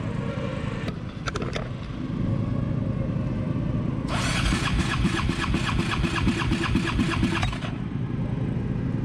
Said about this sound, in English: Before we take the motor out, we just do compression test on each cylinder.